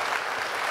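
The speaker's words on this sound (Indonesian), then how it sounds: "kita kasih tepuk tangan dong sekali lagi" Dense, steady applause from a studio audience on a televised talk show, a continuous wash of many hands clapping together with no breaks.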